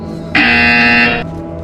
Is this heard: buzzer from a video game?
yes